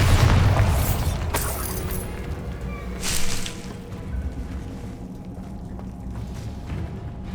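A Bombarda blasting spell going off in Hogwarts Legacy, a loud booming burst at the start with crackling debris, then a second smaller blast and fading rumble over ambient game noise.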